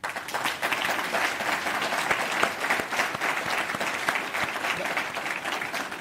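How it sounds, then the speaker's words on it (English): An audience at the 2023 Attorney General awards ceremony gives steady, dense applause throughout, many hands clapping at an even level without any speech on top. "Please give them all a round of applause."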